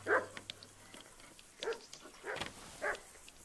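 Dogs bark in the game Kingdom Come: Deliverance: four separate barks about half a second apart, moderately close over a quiet background.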